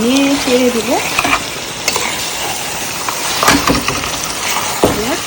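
Pieces of home-raised rooster sizzle loudly in a hot pan while a spoon stirs and scrapes through them, a dense, continuous frying hiss broken by occasional clanks and a brief squeal near the start.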